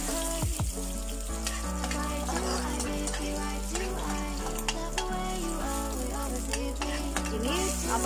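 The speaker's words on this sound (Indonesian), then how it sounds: "ini ada jahe dan bawang putihnya aku masukkan ya teman-teman ya. Ini kita goreng agak" Ginger and garlic fry in a pan while being stirred, a steady sizzle running throughout under a bed of background music.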